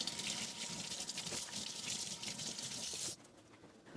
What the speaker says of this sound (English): And we'll just give them a rinse.